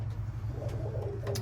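Racing pigeons coo softly inside a loft, low murmuring calls rising and falling over a steady background hum, with a few faint rustles and no talking.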